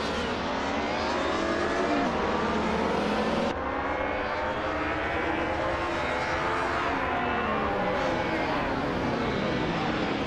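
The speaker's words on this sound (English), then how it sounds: "driving a classic 1995 BMW M3 GT-R Evo in the Retro DTM class now" 1995 BMW M3 GT-R Evo race cars in the Retro DTM class of a racing game, several engines roaring together in a loud, continuous drone with shifting revs and a gear change partway through, with no gaps.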